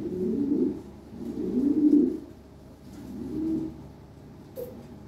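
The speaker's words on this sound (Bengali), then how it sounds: "হাই কোয়ালিটি কবুতর, টপ কোয়ালিটি একদম।" Lahori pigeons coo at a pigeon market in three slow, low, throaty bursts, close and fairly quiet, with a brief faint noise near the end.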